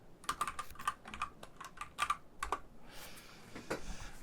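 Computer keyboard typing in irregular bursts of close, crisp key clicks, a few louder strokes standing out, then a brief soft rustle near the end.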